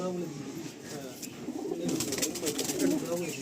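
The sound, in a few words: Kaldom pigeon cooing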